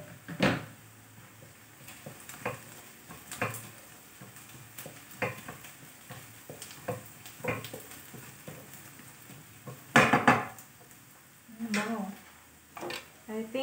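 Beef curry cooking in a pot as turmeric and ginger are added and sautéed, with scattered stirring clicks, clanks of a spoon against the pot and faint sizzling, close by and without speech.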